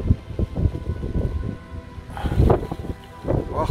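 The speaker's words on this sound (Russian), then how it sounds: "Пытается у меня зонт вырвать, ветер." Strong gusts buffet an umbrella held outdoors among rocky hillside megaliths, with low rumbling wind noise rising into louder flapping bursts midway and again near the end; no one speaks.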